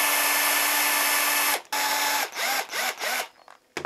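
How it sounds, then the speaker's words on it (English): A power drill bores a socket into a handmade pilchard trolling lure: a loud, steady whine, then a cut-off followed by several short revving bursts as the trigger is pulsed, close up with no talk. "Now I've got them both and I can just drill the socket."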